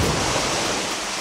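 Erawan waterfall's third tier, a rock-face cascade, sends a steady broadband rush of falling water, loud and close, with no voices.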